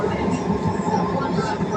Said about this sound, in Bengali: মাটির নিচ দিয়ে যাচ্ছি এই ট্রেনে।